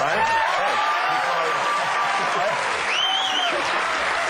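A studio audience at a late-night talk show bursts into sustained applause, loud and even throughout, with voices mixed into the clapping.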